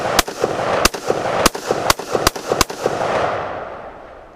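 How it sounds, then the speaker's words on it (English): An AR-15 rifle fires downrange in a string of six sharp, loud shots at uneven intervals, each followed by a brief echo, with the reverberation fading out at the end. "It's just going to be me launching ammo, downrange, laughing about it."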